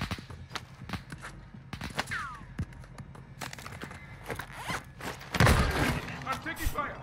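Gunfire from the Warzone 2 video game, a scattered series of sharp shots and heavy thumps during a squad fight over a stronghold, mixed with a player's voice talking throughout.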